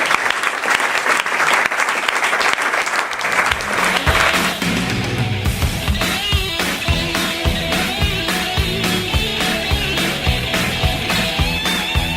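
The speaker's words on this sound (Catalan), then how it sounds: "Fem un aplaudiment als ponents." Sustained, dense applause from an audience thanking the speakers at a talk about squatted social centres in Mataró, loud and steady for several seconds with rhythmic, music-like tones rising alongside later on.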